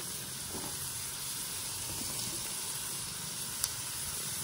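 Steady sizzling hiss of potatoes frying in a hot pan while cooking oats khichdi, with one brief sharp pop near the end.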